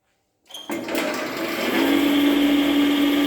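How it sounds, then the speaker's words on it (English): An air blower on a pitot tube flow apparatus starts after a moment of silence, kicking in abruptly and settling into a loud, steady whir with a sustained tonal hum that holds to the end. "Now we start the blower."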